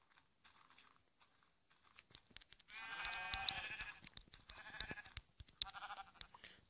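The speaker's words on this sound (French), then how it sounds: "allons voir ce mouton." A sheep in Minecraft Pocket Edition bleats twice in quick succession, clear and nearby, amid soft scattered clicks and footstep-like taps.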